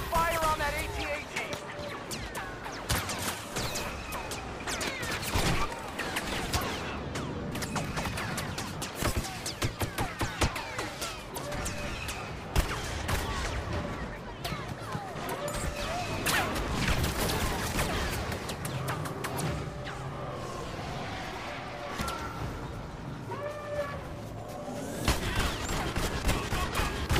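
Blaster fire crackles continuously through a Star Wars Battlefront battle, with dense rapid bursts, explosions and chaotic combat noise going on throughout while voices call out over the din.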